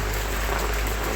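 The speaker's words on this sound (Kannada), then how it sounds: "ಈಗ ನೋಡಿ ಏನೋ ಜೋರು ಮಳೆ ಬಂದ ಗೈಸ್." Heavy rain pours down outdoors on a rainy day, making a dense, steady wash of hiss without any break, heard from a short distance with no voices.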